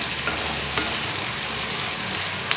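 Ginger, garlic, onion and spices frying in a pan for chicken sambar, a dense continuous close sizzle with faint stirring taps, no voices.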